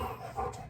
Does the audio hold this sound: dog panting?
yes